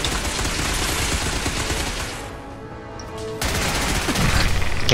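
Loud, dense gunfire from a weapon in Fallout 4, a continuous barrage that dips briefly and then resumes harder and closer, with no voices.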